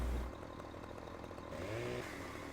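Chainsaw in the video game Farming Simulator 15 cutting down trees, a steady buzzing engine drone that holds through the clip and swells briefly louder near the end.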